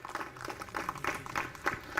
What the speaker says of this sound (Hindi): जोरदार तालियां बजाइए शिव जी के लिए